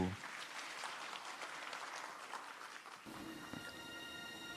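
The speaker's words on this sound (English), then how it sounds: "a big round of applause for our opening show" Audience applause greeting the opening show at the Asian-Pacific Postal Union Congress, a steady wash of distant clapping that gives way to music near the end.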